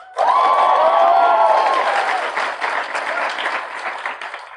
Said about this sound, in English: please give a huge, huge round of applause